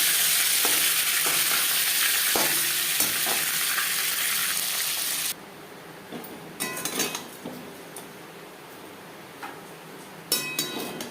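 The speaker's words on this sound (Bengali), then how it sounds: "একটা সাইড ভাজা হয়ে গেলে অপর সাইডটা উল্টে দেবো।" Bhetki fish fries in a pan with a loud, dense sizzle that drops suddenly partway through, leaving quieter crackles and a few sharp utensil knocks.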